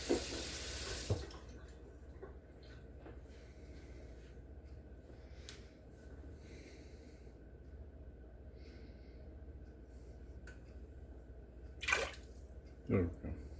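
Tap water runs to rinse cornstarch from a bowl in a home kitchen while making egg drop soup, with a short gush at the start and another near the end over a low steady background hiss.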